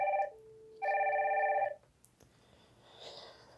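A Wildix WP410 desk phone rings with two electronic ringtone bursts, close and loud, followed by quiet room noise.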